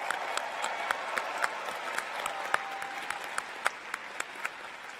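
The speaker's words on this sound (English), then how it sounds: "Let us cheer for all of the language learners." A large graduation crowd at the UCLA College commencement in Pauley Pavilion applauds steadily, with dense continuous clapping and scattered sharper claps standing out through the hall for the whole stretch.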